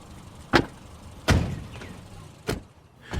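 Car doors of a parked car thump shut one after another as people get out, four separate solid closes spaced over a few seconds against a quiet outdoor background.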